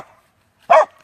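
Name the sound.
dog barking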